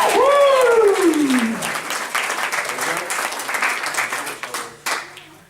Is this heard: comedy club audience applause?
yes